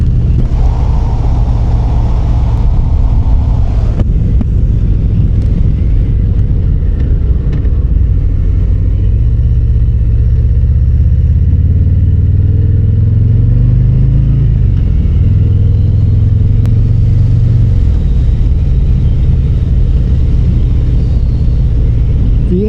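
A 2025 Harley-Davidson Fat Boy Gray Ghost motorcycle engine rumbles loud and close, a steady low throb with a few shifts in revs.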